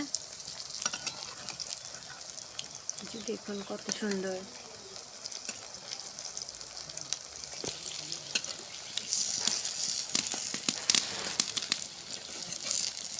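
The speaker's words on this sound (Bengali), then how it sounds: "ভালোভাবে ভাজে নেওয়া হবে" Moringa-leaf fritters (bora) fry in hot oil, a steady crackling sizzle with scattered pops and occasional stirring, while someone speaks briefly over the cooking.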